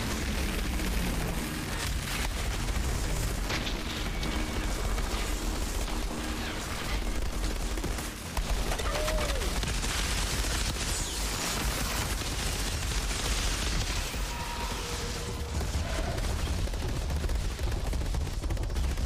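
Continuous video game gunfire from blind firing rattles through the whole stretch in dense, overlapping bursts, loud and close, with rumbling impacts and only a brief dip in the middle.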